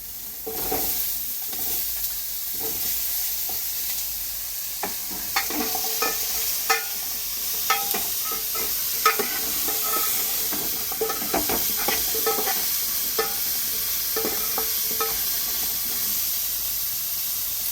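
Onion and chayote sautéing in oil in a pan for a quick kuzhambu, a continuous sizzle broken by frequent scraping stirs and clicks, close and steady, with no speech.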